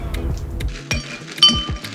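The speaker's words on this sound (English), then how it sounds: "So let's go ahead and get some ice in." Ice cubes dropped into a cocktail glass for a Sex on the Beach clink and rattle in several quick, close, bright knocks over about two seconds, with no speech.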